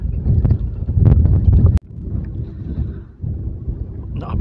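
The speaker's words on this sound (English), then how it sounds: "the wind's coming directly from the south" Strong wind gusts buffet the microphone on an exposed hilltop near Shining Tor in the Peak District, a loud, rough roar that surges, drops out briefly, then returns.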